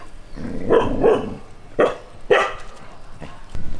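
A dog barks several times in short separate bursts, fairly close and loud, with some whimpery yips between and background noise throughout.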